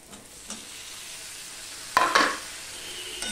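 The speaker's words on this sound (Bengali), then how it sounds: "এই অবস্থায় আমি টমেটোগুলো দিয়ে দিলাম।" Tomatoes tipped into a pan of frying onions and potatoes for an okra-potato curry: a low steady sizzle, then a sudden loud hiss that swells at the moment they land and gradually settles back into gentler frying.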